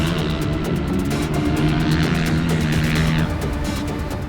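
Stark Varg electric motocross bike pulling hard out of a final corner and over a finish jump on a dirt track, a steady loud whine with rumble and wind held throughout, easing slightly near the end.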